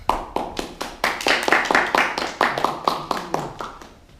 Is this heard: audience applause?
yes